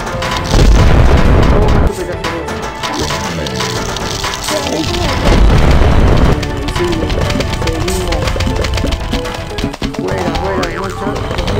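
Dense, loud Plants vs. Zombies combat with plants firing repeated booming shots and impacts layered over busy background music, continuous throughout.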